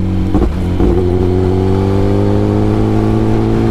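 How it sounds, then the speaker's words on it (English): A Kawasaki ZX10R motorcycle with a throttle fault has its engine revved as the throttle is twisted, a loud sustained drone whose pitch climbs slowly after a brief dip. "I am twisting the throttle so much to continue going, and I can't downshift either."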